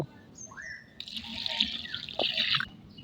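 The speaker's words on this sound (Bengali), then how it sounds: "এতেও আমি এখন জল দিয়ে দেব" Water is poured onto the dry soil at the base of a star fruit tree in a rooftop garden, making a steady splashing trickle that swells after the first second, with birds chirping in the background.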